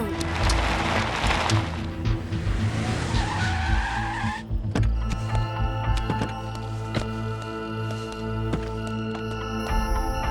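A car's tires skid on the road as it brakes to a stop, a loud rising screech over engine noise lasting several seconds, followed by a steady hum of the idling engine inside a Hindi action thriller scene.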